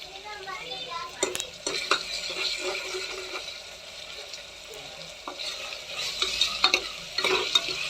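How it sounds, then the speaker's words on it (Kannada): Green chillies fry in hot oil for palav while a spoon stirs and scrapes the pan, with a steady sizzle under repeated metallic clinks and scrapes. "ಅದನ್ನು ಎಣ್ಣೆಗೆ ಹಸಿ ವಾಸನೆ ಹೋಗೋ ಮಟ್ಟ ಹುರಿಬೇಕ್ರಿ"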